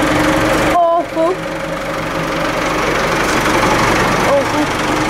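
A mud-caked farm tractor's engine runs steadily at a low, even drone throughout, loud and close, with a brief dip near the start and faint voices over it.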